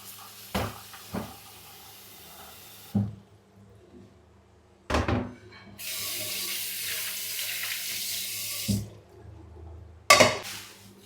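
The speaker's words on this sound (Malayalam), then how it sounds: "ആദ്യം മത്തി കുറച്ച് നേരം ഒന്ന് വെള്ളത്തിലിട്ടേക്കണം" Slightly icy Oman sardines are rinsed in a kitchen sink: bursts of tap water splash and run, punctuated by sharp knocks and clatters of a bowl or container, with brief quiet gaps between.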